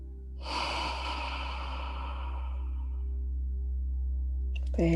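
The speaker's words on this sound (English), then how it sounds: "Very deep inhalation." Deep yoga breathing: one long, close inhale that slowly trails off, with a faint tonal hum underneath throughout.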